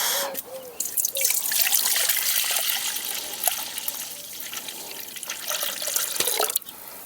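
Milk pouring steadily into a metal pot for making mawa, a continuous close splashing stream with small drips that lasts the whole stretch.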